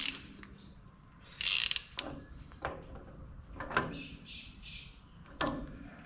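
Wrench clicks on a ratchet while a rear bicycle hub nut is nipped up during a bike restoration, giving a few quiet, separate clicks and mechanical taps in a quiet workshop.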